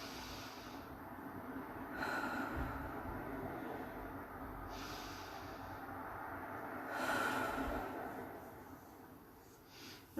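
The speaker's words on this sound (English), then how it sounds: "So I want to just take 3 deep breaths if you join me." Slow, deep breaths taken during a guided breathing exercise for relaxation, two long, soft airy inhale-exhale swells heard close up with no talking.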